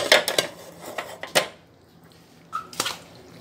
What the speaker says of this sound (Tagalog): Ihalo na kayong mga ingredients para matapos na.